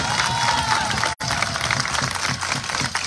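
A crowd at an outdoor political rally claps and cheers steadily, with a brief cut partway through and voices mixed into the noise.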